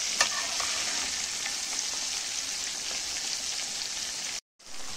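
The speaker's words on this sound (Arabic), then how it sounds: "شايفين كده نزلنا بالمخ في الزيت كده زي ما انتم شايفين" Brain frying in hot oil, a steady loud sizzle and crackle of the oil with occasional pops, continuous until a brief cut near the end.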